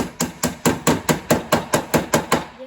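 A small hammer taps about eleven times in a steady, even rhythm, each strike sharp and close with a brief ring.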